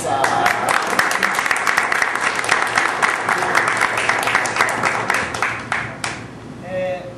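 An audience at an event in João Pessoa bursts into a steady round of clapping that thins out after about six seconds, giving way to a faint voice speaking.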